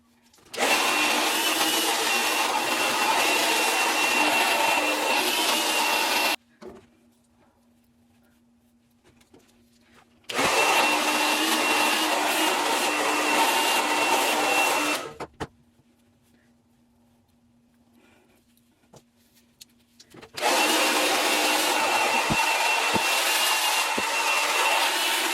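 A hair dryer blows during a hair blowout, a loud steady whooshing hum running in three long bursts of about five seconds each, separated by quiet pauses when it is switched off.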